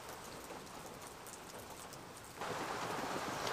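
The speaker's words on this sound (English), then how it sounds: "Rain's picked up again." Steady rain patters on a camp shelter at night, a soft continuous hiss that swells noticeably louder partway through as the downpour picks up, with no voices.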